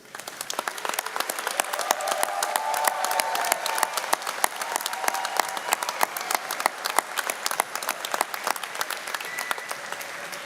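A large commencement audience applauds graduates, with dense, steady clapping that fills the room for about ten seconds and no talking.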